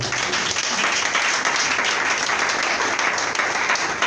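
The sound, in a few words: congregation applauding in church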